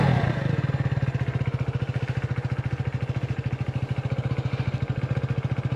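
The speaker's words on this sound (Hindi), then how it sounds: "भाई, तूने इसका ये इग्निशन स्टार्ट किया था?" A 150 cc motorcycle engine starts up and settles into a steady, rapid thumping idle, loud and close, with no voices over it.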